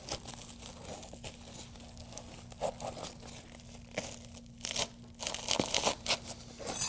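A roof shingle is lifted and slowly torn free during a roof repair, giving a close, continuous crackling and ripping with brief louder crunches over a low steady hum, with no talking.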